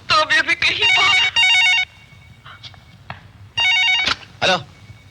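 An old-style telephone bell rings in loud bursts during a Hindi film scene from Hum, with voices talking in the pauses between the rings.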